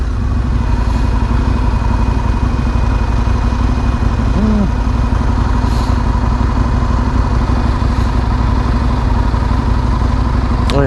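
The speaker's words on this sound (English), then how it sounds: "Oh yeah, that's Aprilia brand exhaust." A 2001 Aprilia 1000 motorcycle runs through its Aprilia exhaust, holding a loud, close, steady engine drone with a constant low throb and a faint mechanical clatter throughout.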